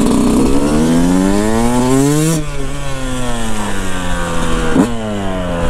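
A Yamaha YZ 125 dirt bike engine screams at high revs, pitch climbing steadily, then dropping sharply at gear changes before climbing again; loud, close and continuous with no talking.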